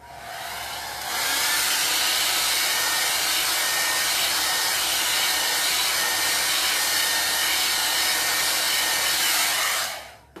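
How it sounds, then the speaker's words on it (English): A hair blow dryer switches on after about a second and runs at a steady loud whoosh for nine seconds before cutting off, used to dry chalk paste on a pumpkin-cutout craft piece, with no talking. "If I can reach my blow dryer."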